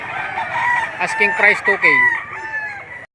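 A rooster at a rooster market in Lipa City, Batangas, crows loud and close in one long, drawn-out call, with people talking around it.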